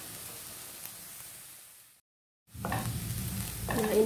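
Cardamom, cumin and cinnamon sizzle and are stirred in a hot pan, with a steady frying hiss that drops to silence briefly before a louder burst of crackling returns.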